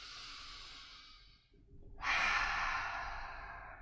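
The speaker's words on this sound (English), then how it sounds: "Take 2 breaths here. 1 more deep breath." A slow, deep exhale and then a long inhale through the nose during a yoga forward fold, close and soft, with no talking.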